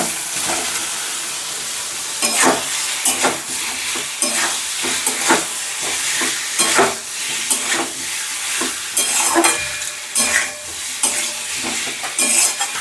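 Peeled boiled potatoes fry in spice masala in a pan, a steady sizzle broken by repeated scraping stirs at an irregular rhythm, close and fairly loud with no talking.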